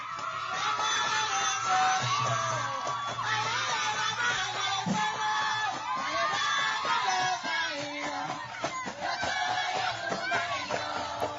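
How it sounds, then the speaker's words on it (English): A crowd of children and adults at a salve music performance in Villa Mella, Santo Domingo, Dominican Republic, shouting, whooping and cheering loudly over sustained singing voices, with a steady lively din throughout. "it's a crowd full of black kids and black people in the Dominican Republic, in the part of Santo Domingo, called Villa Mella"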